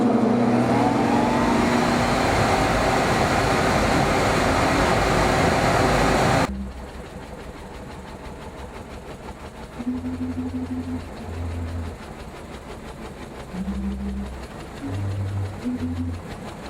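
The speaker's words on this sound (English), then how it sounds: "This is the new blower." A new blower for the Wurlitzer theater organ at Phoenix College runs with a loud, dense roar that cuts off suddenly, followed by intermittent low hums and tones.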